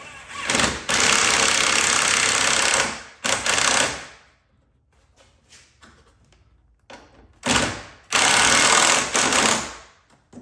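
A power driver with an 8mm socket runs a bolt tight while fitting a Mopar headlamp air duct on a Dodge Challenger Scat Pack. It comes in several loud, close whirring bursts of a second or two, with short quiet gaps between them.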